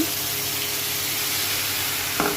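Spice paste hits a hot pan while a boal fish curry with potato and eggplant is being made, raising a loud, continuous close sizzle with a brief scrape near the end.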